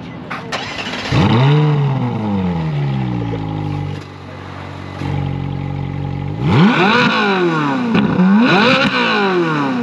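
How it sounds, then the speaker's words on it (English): A sports car with a loud aftermarket Capristo exhaust revs hard several times, rising and falling sharply, close by with no talking. "So we got Capristo exhaust."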